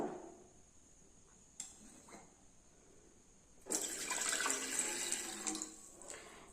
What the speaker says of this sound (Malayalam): ഇനി ഇതിലേക്ക് നമ്മൾ ഒരു ഗ്ലാസ് വെള്ളമാണ് ഒഴിച്ചു കൊടുക്കുന്നത്